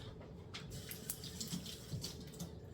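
Water runs from a tap into a smoothie container holding ice, a faint, steady splashing stream with small gurgling bursts throughout.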